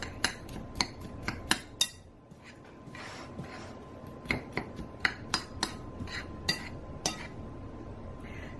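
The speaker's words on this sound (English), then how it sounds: "we are going to mix the oatmeal, the flour, and the brown sugar" Oatmeal, flour and brown sugar mixed in a bowl, heard as a quiet run of sharp utensil clinks and taps against the bowl in uneven rhythm, with soft scraping between strikes.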